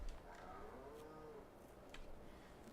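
Cattle in the video game Farming Simulator 22 give a single low, drawn-out moo, faint and somewhat distant, over a quiet game background.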